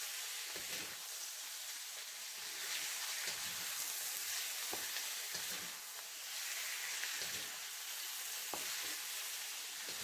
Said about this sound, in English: the reason you should always do this with the meat before you make a stew or anything really is to actually sear the meat to keep the flavour in